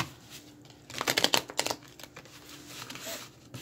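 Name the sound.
shuffling and laying out tarot cards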